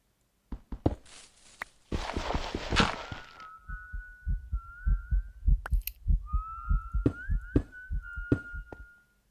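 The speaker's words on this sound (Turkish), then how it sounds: "az önce bir ıslık sesi duydunuz değil mi? İşte o Night Dweller" In a Minecraft horror mod, the Night Dweller gives a thin, wavering whistle that rises twice over a steady run of rhythmic thumping footsteps. Other game noises stay quiet behind it.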